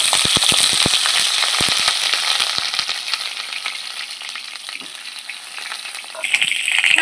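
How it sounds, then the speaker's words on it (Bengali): Pointed gourd (potol) frying in hot oil, a steady close sizzle with dense crackle and sharp pops early on, easing slightly midway and flaring louder again near the end. "তেল গরম হয়ে গেছে, পটলগুলো আমি এখন লাল করে ভেজে নেব।"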